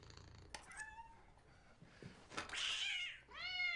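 A robot cat in a video game meows several times in a row. The meows are short and rising, and the last one is longer and louder. They stand alone with no speech over them.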